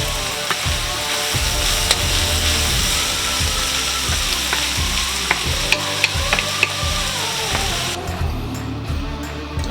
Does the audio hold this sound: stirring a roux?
yes